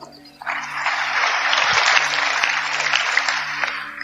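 A crowd applauding steadily, a dense wash of clapping that swells after a brief lead-in and holds at full strength, with a low hum underneath.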